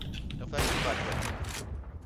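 Rapid bursts of automatic gunfire in a Counter-Strike match, dense overlapping shots swelling to a loud volley and then trailing off, mixed with player voices talking over the action.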